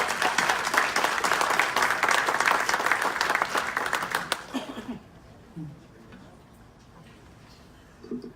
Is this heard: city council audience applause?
yes